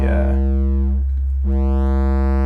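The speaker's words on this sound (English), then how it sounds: "sine wave" A loud, sustained tone from an Erica Synths Graphic VCO sine wave oscillator with a steady low pitch, its upper harmonics thinning briefly in the middle and then returning.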